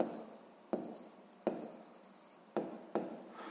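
Pen or pencil strokes on paper during a math exercise, scratchy bursts of writing separated by sharp taps and brief pauses, close and fairly quiet, with no talk.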